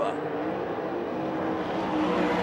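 USAC/CRA sprint cars race at Manzanita Speedway, Arizona, their engines a steady, loud, continuous roar with no letup, as if several cars are running together on the track.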